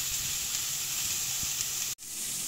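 Langoustines and prawns sizzle on a flat griddle with a loud, steady, close hiss of frying, a few faint taps underneath, and a brief cut near the end before the sizzling resumes.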